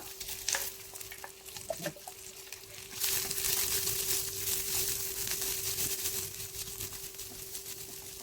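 Chopped onion hits a hot pan with curry leaves for upma, sparking a louder sizzle after a few scattered stirring clicks, then a steady close frying hiss with light scraping.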